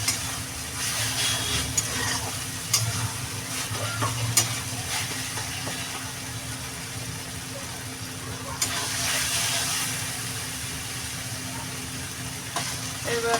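Spice paste for a rohu fish curry sizzles steadily in oil as it is fried and stirred, a continuous close crackle with occasional scrapes and a low steady hum beneath.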